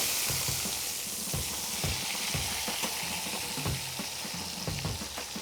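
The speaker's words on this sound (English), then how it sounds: "try to get a little bit of a sear on the sides as well" Pork pieces sear in a hot pan or Dutch oven over a wood fire, giving a continuous dense sizzle. Occasional clacks and shifting sounds cut through as the meat is turned. The sound is close, with no talking.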